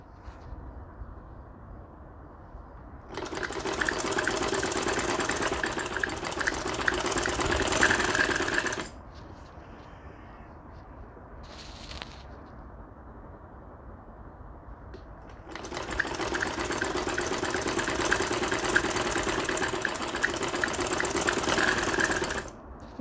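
A sewing machine stitches piping cord onto a ladies shirt in two fast, steady runs of rhythmic stitching, separated by a quieter pause with a brief mechanical sound, with no talking.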